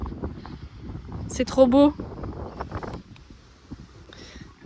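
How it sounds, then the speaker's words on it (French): Strong wind on Clearwater Beach in Florida buffets the microphone with a low, uneven rumble throughout, while a voice speaks briefly over it with a rising exclamation. "Il y a tellement de vent qu'on n'entend rien."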